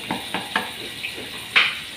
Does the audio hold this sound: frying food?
yes